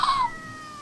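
A cat gives one short, high meow that fades quickly into quiet room tone.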